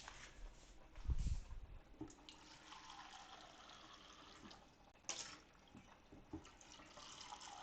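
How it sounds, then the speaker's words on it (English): Water poured into a cooking pot for boiling sweet potato for a vegan coconut red curry, a soft continuous watery trickle near at hand with a louder splash early on and brief clinks. "Yeah, I'm gonna put half a cup more water in."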